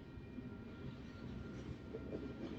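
A train passes a Tesla driving on FSD Beta 10.69.1, heard from inside the car as a faint, low, continuous rumble that swells slightly toward the end.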